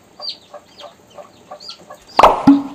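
Young chicks cheep in a series of thin, evenly spaced peeps at close range, followed by a louder, harsher squawk and clatter near the end.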